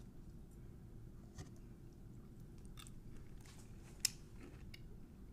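Crunchy garlic-topped food being bitten and chewed up close, a few soft crisp crunches over a steady low background hum with one sharper snap partway through; no talking.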